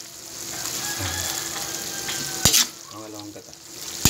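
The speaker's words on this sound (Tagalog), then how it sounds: "So, ilalagay na natin yung pangalawang gata." Bicol Express sizzling in a pan after second coconut milk is poured in: steady close frying hiss with a sharp clatter partway through and light stirring, no talk.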